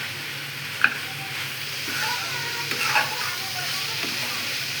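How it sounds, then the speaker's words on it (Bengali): Dried potatoes and dried fish fry with ground coriander, turmeric and chili powder, giving a soft continuous sizzle broken by a few sharp scrapes and clinks of a spatula stirring the pan, close by, with no talk. "এখানে শুকনা আলুগুলো শুটকির সাথে ভুনা করবো"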